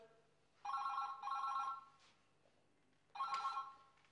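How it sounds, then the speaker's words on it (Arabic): A telephone rings in electronic warbling bursts, two close together and a third after a pause, fairly near and clear over a quiet room. "ثاني مرة اذا برن التليفون انا برد"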